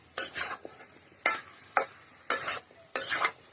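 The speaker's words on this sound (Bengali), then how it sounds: "বন্ধুরা, আমি ভালোভাবে কষাই নিচ্ছি।" Curry being stir-fried in a pan on a clay stove: five separate scraping stirring strokes, each with a short sizzle, spaced by quiet gaps.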